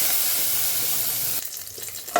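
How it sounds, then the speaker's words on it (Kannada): Curry leaves tempering in hot oil in a pan, a loud bright continuous sizzle up close that abruptly drops to quieter crackling and stirring clatter in the last second. "ಒಗ್ಗರಣೆ ಚೆನ್ನಾಗಿ ಫ್ರೈ ಆಗ್ತೈತೆ"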